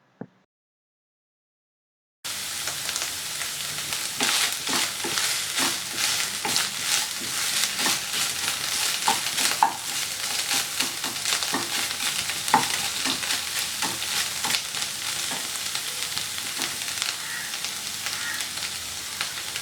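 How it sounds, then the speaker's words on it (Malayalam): Ground ginger sautés in a pan for Kerala-style inji theeyal, ginger curry. A steady sizzle is broken by repeated utensil scrapes and taps, starting after a short silence. "ഇഞ്ചി ഇട്ടതിന് ശേഷം നന്നായിട്ട് വഴറ്റി കൊടുക്കണം."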